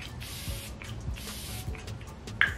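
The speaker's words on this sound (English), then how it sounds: "We're just going to finish off by spraying our Fresh Vitamin Nectar Antioxidant Glow Water to set." Two soft, breathy hisses of a setting spray mist pumped close up onto a face, followed by a faint click, quiet between bursts.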